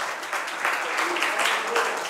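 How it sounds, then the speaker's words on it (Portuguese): A church congregation claps in steady, moderately distant applause during a worship service, a dense patter filling the short stretch without pause. "Sente-se, aplauda ao Senhor."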